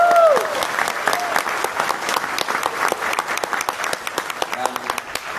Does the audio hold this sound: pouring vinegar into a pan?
no